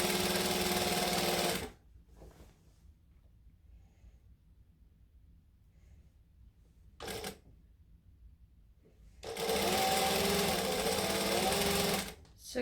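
A domestic sewing machine stitching the seam of a men's short-sleeve shirt, heard in two loud close bursts of rapid whirring separated by a quiet pause with a brief blip in between.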